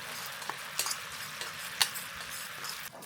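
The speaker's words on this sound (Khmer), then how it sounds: "ឥឡូវខ្ញុំកូរវាឲ្យ" Ground chili sizzles in hot oil for a Cambodian beef curry, a steady close frying hiss broken by scattered clinks and scrapes as a utensil stirs it in the pan.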